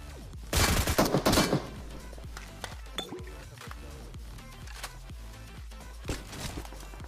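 Gunfire in PUBG Mobile comes from a squad house on the Erangel map. A loud burst of rapid shots is followed by scattered single cracks and pings over a busy in-game soundscape.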